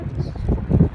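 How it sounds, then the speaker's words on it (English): Steady low wind rumble buffets the microphone throughout on a Cornwall beach, with gusty swells and no clear voices. "It is quite windy."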